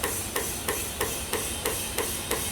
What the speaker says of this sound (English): Now you hear the air going in